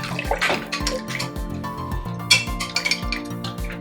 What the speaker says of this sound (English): Just stir that up.